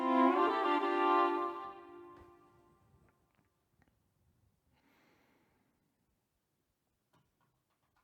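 The Pathfinder Violin plugin sounds a rich six-note bowed string chord that swells briefly and fades away over a couple of seconds, leaving faint ticks and near silence.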